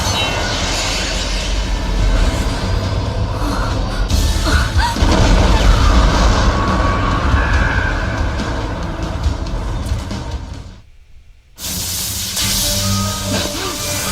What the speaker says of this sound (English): Eren shoves a load of explosives into the Titan's mouth